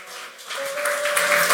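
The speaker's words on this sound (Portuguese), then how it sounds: "Vamos aplaudir o Senhor aí, dá um glória a Deus" A church congregation applauds together, a dense wash of clapping from many hands that swells and holds steady for a moment.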